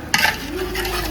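Chicken pieces go into a hot cooking pan and are stirred, giving a sizzling, frying hiss with scraping stir strokes close by after a brief sharp clatter as they land.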